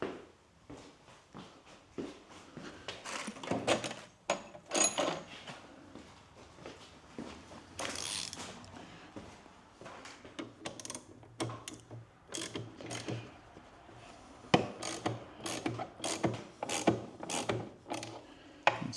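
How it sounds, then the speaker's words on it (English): A 1/2 inch drive ratchet working on DRZ400SM motorcycle engine cases during a rebuild, with repeated bursts of sharp pawl clicking interspersed with metal clanks and handling noises, close and fairly quiet. "I'm going to get my 1/2 inch drive."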